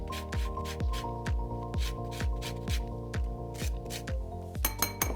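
Lime and lemon rind scraped over a zester in quick, even rasping strokes, about two per second, each carrying a faint metallic ring, close and alone with no voices.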